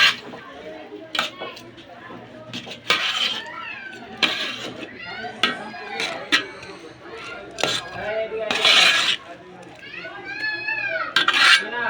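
A utensil stirs chicken biryani in a pot with repeated clinks and scrapes against metal, close by, while a person talks over the sounds.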